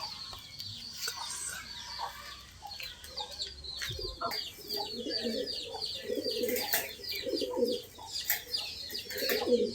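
A flock of ordinary domestic pigeons coos steadily, with soft throaty burbling calls overlapping at close range, alongside fluttering and scattered chirps in an outdoor loft.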